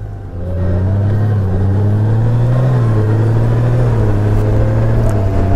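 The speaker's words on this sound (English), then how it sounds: "Now the bike is shifting smoothly" A 2020 Honda Goldwing motorcycle on the road, shifting gears: a loud, steady engine drone with a slight rise and dip in pitch, heard up close over wind rumble.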